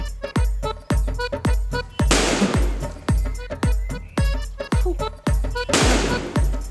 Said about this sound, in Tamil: நான் பட்டாசு அடிக்க போறேன், தள்ளி நில்லு.